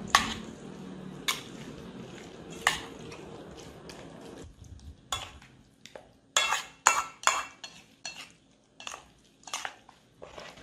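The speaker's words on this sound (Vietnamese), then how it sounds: "Trộn lên trước ha, để cho các cái gia vị này nó dễ hòa tan rồi." Egg yolks and seasonings are mixed in a bowl: irregular clinks and scrapes of a utensil against the bowl, sparse at first, then quicker, close and clear with no talking.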